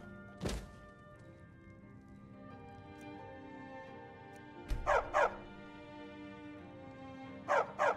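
A dog in a video game barks in two short double bursts, preceded by a couple of dull thumps, over a quiet steady background hum.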